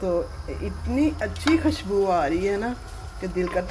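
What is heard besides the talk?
No everyday noises stand out.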